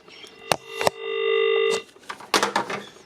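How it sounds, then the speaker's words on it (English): An old PMG telephone's bell rings in short bursts with one sustained metallic ring in the middle, close and fairly loud, surrounded by clicks and handling knocks. "I do have a better sounding PMG phone than that actually"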